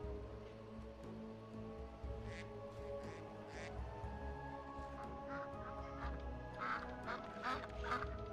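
Ducks and ducklings quack in a modded Skyrim game world, a few short calls at a moderate distance against a steady ambient background with light pattering.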